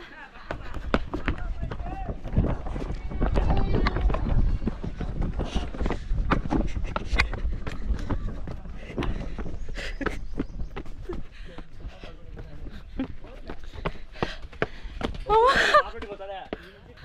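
Quick, uneven footfalls of someone running up a flight of stone stairs at a historic site, close to the microphone and mixed with someone talking over them.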